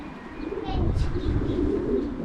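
Racing pigeons returning to the loft coo in low, throaty rolls, close by, with faint chirps and a brief wing flutter over the steady murmur.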